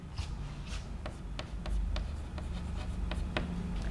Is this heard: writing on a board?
yes